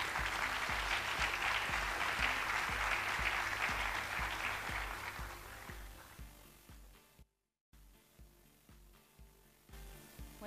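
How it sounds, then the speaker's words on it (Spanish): Audience applause for a speaker being introduced at a Spanish-language talk, a dense, loud wash of clapping that gradually thins and fades toward the end, with a brief gap and scattered final claps. "Aplausos, por favor"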